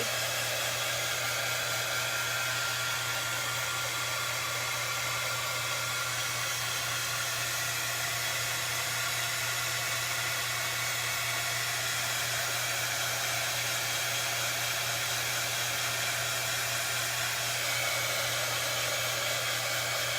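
A hair dryer blowing on a chalk-painted Dollar Tree metal pizza pan, a loud, constant whooshing hiss with a steady low hum that runs unchanged for the whole stretch.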